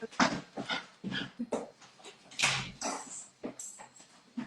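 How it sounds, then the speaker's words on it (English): A dog barks and whimpers in a string of faint, distant yelps and whines, uneven bursts with short pauses between them. "my dog's going crazy"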